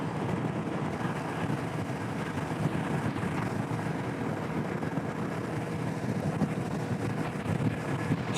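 Riding a Kawasaki Vulcan S motorcycle produces a constant, heavy rush of wind noise over the microphone, a steady broadband roar that buries any engine sound for the whole stretch.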